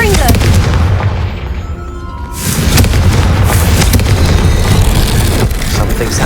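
A Confringo spell in the Hogwarts Legacy video game goes off as a loud, booming blast that rumbles on continuously, with dense explosive crackle filling the whole stretch.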